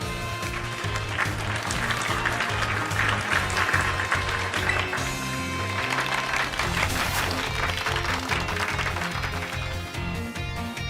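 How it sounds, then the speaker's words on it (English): Steady, lively clapping from a crowd fills the whole stretch, mixed with bright game music and chimes throughout, in Pokemon Scarlet. "Give Pikachu a round of applause, everyone."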